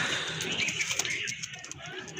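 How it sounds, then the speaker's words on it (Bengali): A restless pigeon just taken out of its cage at a pigeon farm flutters and flaps its wings in short, irregular bursts, with faint cooing and bird noise around it. "আপনার খাঁচা থেকে বের করার পর থেকে কিন্তু এই যে দেখেন খুব ছটফট করতেছে"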